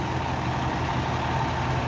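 Fire engines idle at a busy emergency scene, a steady low diesel rumble droning evenly throughout with no talk over it.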